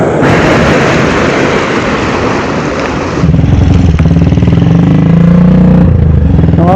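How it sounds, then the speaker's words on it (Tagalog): An enduro motorcycle rides past close by near a waterfall, its engine loud and steady over the constant roar of rushing water, then fading into a rougher, throbbing idle-like rumble. "Nakakadaan pala yung motor."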